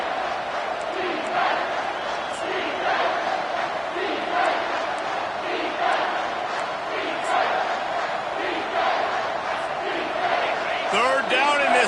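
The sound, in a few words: loud stadium crowd cheering at football game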